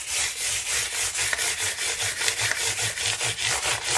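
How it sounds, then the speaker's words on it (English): Very fine 2500 grit sandpaper rubbed briskly over a customised Squier Fender punk guitar, a steady run of rhythmic back-and-forth scrubbing strokes, close and alone with no talk. "I'm just going to go a little bit crazy with the cleaning and use a very fine 2500 grit"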